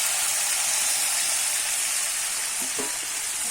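Fried potatoes, cauliflower and bori sizzling in hot spiced oil, a loud, continuous close-up hiss with no break and a brief low clatter near the end.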